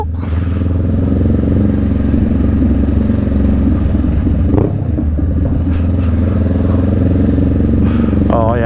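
A Honda Rebel 500 motorcycle fitted with a Vance & Hines exhaust idles up close with a loud, deep, burbly engine note that holds steady and throbbing throughout.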